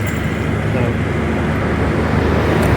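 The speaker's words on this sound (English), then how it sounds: "Sorry for all the road noise. FedEx truck going by." Loud, steady roar of a FedEx delivery truck passing on a nearby road, with broadband rumble and wind-like noise throughout.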